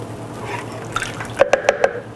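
Full-fat coconut milk pours from a 13.5-ounce can, ending in four distinct wet plops and drips close by over a faint background hum.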